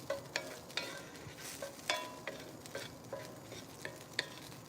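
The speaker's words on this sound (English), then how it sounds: "My onions, my garlic are partially roasted" Onions and garlic being stirred and roasted in a pan for a Cambodian spicy vegetable dip, with a soft, steady sizzle broken by light scraping and tapping of a utensil, quiet and without speech.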